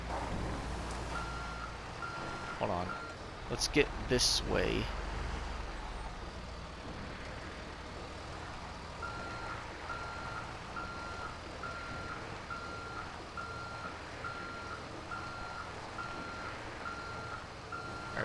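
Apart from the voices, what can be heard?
truck reversing beeps while backing up a trailer, video game GTA V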